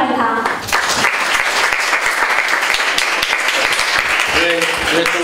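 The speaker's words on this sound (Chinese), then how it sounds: "我们掌声欢迎他" Audience applause welcoming a speaker at a public talk on criminal compensation in death-penalty cases: loud, sustained clapping throughout, with a voice briefly heard at the start and end.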